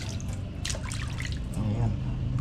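Cut pork rinsed under running water in a kitchen: a steady splashing trickle throughout, with a voice briefly murmuring over it.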